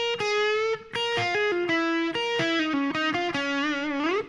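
An electric guitar with distortion plays a solo slowly, sustained sliding and bending notes stepping down in a steady, deliberate phrase, close and clear with no talking.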